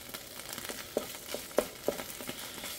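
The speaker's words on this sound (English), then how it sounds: "fry up a little of the tomato paste to get some of the tinniness flavor out of it" Tomato paste frying in a little oil on medium-high heat, with a soft, low sizzle and a few light crackles and pops spread over a couple of seconds.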